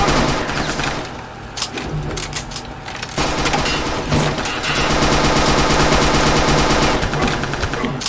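Schmeisser submachine gun fire in the shooter game RealRTCW: loud, sustained automatic bursts with a brief lull near the middle, mixed with booms and debris noise, dense and continuous throughout.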